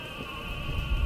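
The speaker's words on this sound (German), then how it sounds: "Ist das überhaupt die Alarmanlage von dem Auto?" Car alarm in the video game Batman: Arkham Knight, a steady electronic tone holding at a constant pitch throughout a brief moment, moderately loud over low rumbling background.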